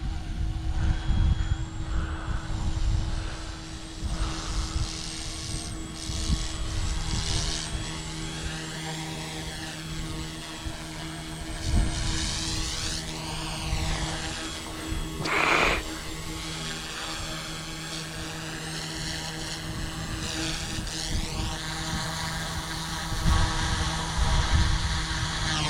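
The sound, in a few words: OH-58 and UH-1D Huey helicopters flying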